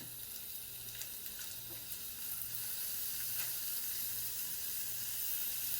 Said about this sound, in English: I'm gonna brown half the meat.